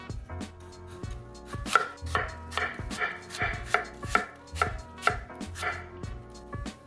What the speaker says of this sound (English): After all the apples are washed and peeled, we're gonna slice everything up.